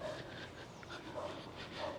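A dog pants and whimpers faintly in a quiet outdoor setting, with soft breathy panting and a few brief high whines over low background noise.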